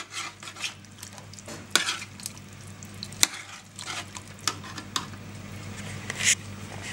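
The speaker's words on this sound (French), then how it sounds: "J'ajoute la crème fraîche, 2 bonnes cuillères à soupe," Spoon stirring veal blanquette with crème fraîche in a pan, with soft repeated scraping and clinking against the metal over a faint sizzle, close and without talk.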